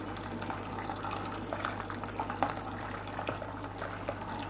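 Boiling water from a kettle pours into a container with vegetables, a steady close liquid hiss and trickle running throughout with no talk.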